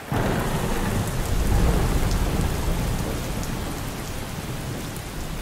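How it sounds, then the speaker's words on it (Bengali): Heavy rain pours down in a dense, steady roar while deep thunder rumbles underneath, a continuous storm soundscape with no voices, used as a sound effect in a spoken ghost story. "একটু পরেই বৃষ্টি নামলো ঝমঝমিয়ে।"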